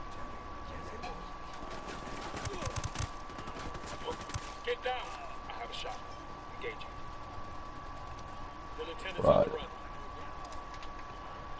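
Bursts of gunfire at a casino in Ghost Recon Wildlands, scattered shots and short volleys under a steady electronic hum, with one louder close blast near the end; voices talk intermittently over it.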